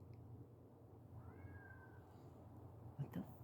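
A cat outdoors at night in western Kentucky gives a faint, distant drawn-out meow over steady background noise, followed by a couple of soft thumps near the end.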